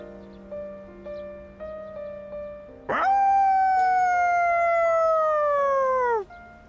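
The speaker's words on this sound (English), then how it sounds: "His howl resounds throughout the quiet shrine." A dog howls in the Persona 3 Reload video game within a quiet shrine, one long, loud, sustained howl slowly falling in pitch over a soft melodic music bed.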